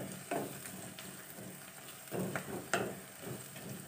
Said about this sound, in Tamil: தக்காளி சேர்த்துட்டு இதையும் நல்லா நம்ம வதக்கிக்கலாம்